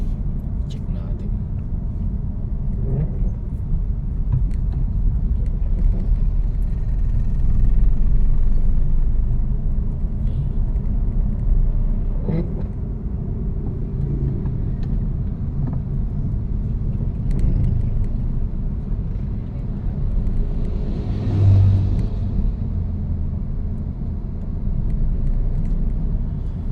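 Car driving along the Montalban highway in Rizal over rumble strips, a steady loud road and engine rumble throughout with occasional brief thumps.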